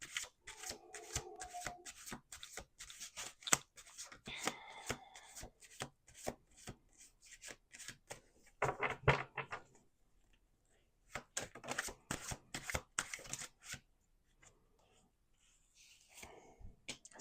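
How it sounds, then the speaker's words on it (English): Tarot cards are shuffled by hand in repeated quick riffling bursts separated by short pauses, close and fairly quiet, with brief speech between bursts. "Let's do 2 more shuffles."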